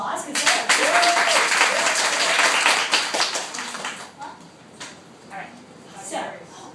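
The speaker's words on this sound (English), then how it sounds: "Can we give them a round of applause?" An audience bursts into dense applause that gradually thins to scattered claps, with voices chatting over the fading end.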